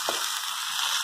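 Carrots sizzling in margarine in a frying pan, a steady close hiss of frying with a brief stir or clatter near the start, no talking.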